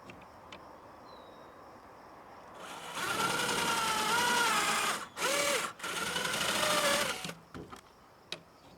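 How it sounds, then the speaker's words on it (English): A power tool drives a tap to cut threads into a hole on a chicken coop build, whirring steadily for about four seconds with a brief pause midway, then stopping against quiet surroundings. "Now I got to tap the hole for it."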